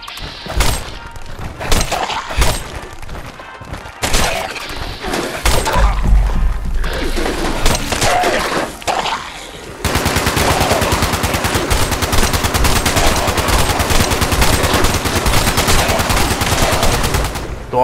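Gunfire in Fallout 76 rattles loudly and close, first in scattered shots and bursts, then a long unbroken stretch of rapid automatic fire with sharp metallic impacts.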